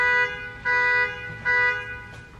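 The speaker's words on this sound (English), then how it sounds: "wake up, it's an alarm" An alarm sounds in three strong bursts, each a steady stack of tones holding for about half a second with brief gaps between, loud and close with no talk over it.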